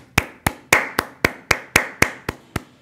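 A single pair of hands claps eleven times in a slow, even rhythm, each clap sharp and close with a short room decay, and no other sound between.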